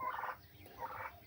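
Farm turkeys kept for a poultry business give two quick, faint gobbling calls a moment apart, with no talk over them.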